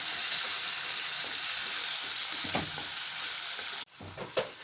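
Mint paste sautéing in a hot pan, giving a loud hissing sizzle with a couple of stirring scrapes, then dropping suddenly to near quiet with a last faint clatter.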